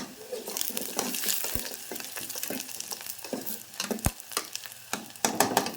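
Onions sizzling in a pan over a medium flame, with soft steady frying hiss, spoon stirring scrapes and two sharp knocks against the pan, close and moderately quiet.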